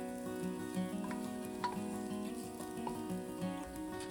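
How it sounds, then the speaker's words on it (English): Diced onion fries quietly in oil with a soft, even sizzle and occasional light stirring clinks, close by and alone, over a faint steady hum. "I'm just going to let this fry in the oil, stirring occasionally until the onion is soft and just starting to color."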